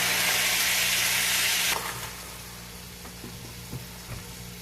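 Chicken fajitas with peppers sizzle in a pan, starting as a loud, bright hiss that suddenly drops to a quieter sizzle with a few soft knocks.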